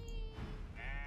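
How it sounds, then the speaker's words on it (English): A sheep bleats in the video game Divinity Original Sin 2, a single wavering, nasal baa held for about a second, close and alone with no talk over it. "That's a sheep."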